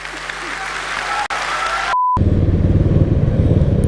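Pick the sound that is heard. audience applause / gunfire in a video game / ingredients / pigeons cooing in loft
audience applause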